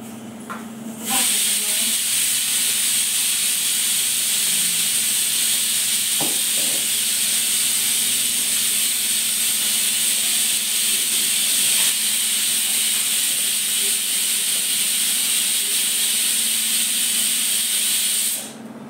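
A pressure cooker on a gas stove releases a loud, continuous steam whistle and hiss that starts abruptly and holds steady for about seventeen seconds before cutting off, close by and without talk.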